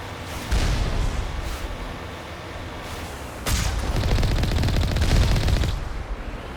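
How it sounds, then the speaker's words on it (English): Turret gunfire in Mass Effect 1 Legendary Edition, heavy booming shots and sustained rapid fire, loud and close, with a sharp blast midway and no talking. "Looks like another turret up ahead."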